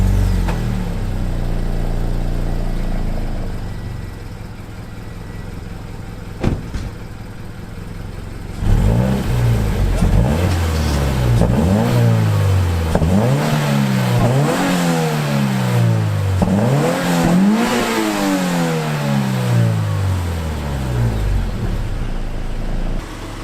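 A Subaru BRZ fitted with a single-exit exhaust idles with a low rumble, then revs repeatedly in rising and falling sweeps, loud and close, with no talking.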